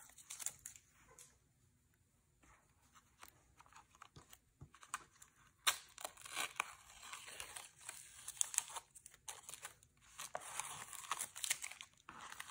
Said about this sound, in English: So we're gonna take the tape off